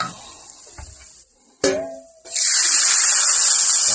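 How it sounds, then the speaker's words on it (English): Water poured into a hot cooking pan gives a brief clatter, then bursts into a loud, continuous sizzling hiss that holds steady to the end. "let's add that water, folks."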